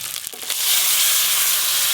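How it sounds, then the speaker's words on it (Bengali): Boiled bottle gourd is tipped into fried masala in a pan, setting off a loud, steady sizzle that swells after a brief clatter and holds to the end. "এবার সেদ্ধ করে রাখা লাউ ছকে দেবো"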